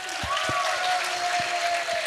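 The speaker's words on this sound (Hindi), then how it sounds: "एक बार हमारे सोरंग याना के फैंस के लिए एक बार जोरदार तालियां हो जाए" Audience applause for a contestant's fans during a dance song round of the Arunachal Idol talent show, steady crowd clapping with a tone and a few thumps running through it.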